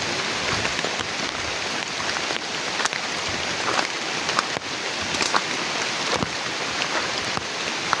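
Steady heavy rain falls outdoors, a dense continuous hiss of drops on surfaces, close and even throughout, with occasional louder spatters and no talking.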